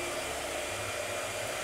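A blow dryer runs continuously nearby during a painting session, a loud, steady whooshing roar with a low motor hum and no speech.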